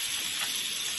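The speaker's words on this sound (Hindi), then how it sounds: "मैं तवे के ऊपर डालूंगी थोड़ा सा बटर" Butter sizzles on a hot tawa griddle while veg frankies are being made, a short, steady, close hiss with no voices.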